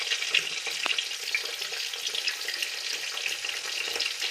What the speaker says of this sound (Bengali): আর এই যে শিম ভাজা হচ্ছে কড়াইয়ে